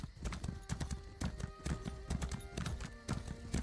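A horse in a video game trots along with quick, rhythmic hoofbeats, clear and close over a soft sustained tonal background.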